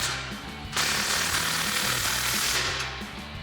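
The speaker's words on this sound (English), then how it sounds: "tighten that down with that 15mm socket" A power tool with a 15mm socket tightening an exhaust clamp on a Ram 1500 exhaust install, a loud continuous rattling hammer for about three seconds, close up and alone.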